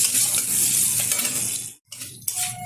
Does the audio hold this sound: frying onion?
yes